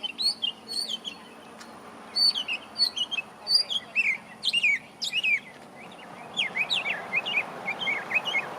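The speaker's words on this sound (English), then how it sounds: "Did y'all hear the bird?" A mockingbird sings at a coastal bird sanctuary among fan palms in Alabama, giving a varied series of bright chirps and phrases in bursts, moderately distant over quiet background.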